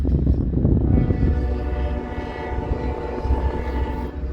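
An empty westbound coal train rolls past at close range, a loud rumbling drag of wheels and cars with a low steady roar and rattling, no talk over it.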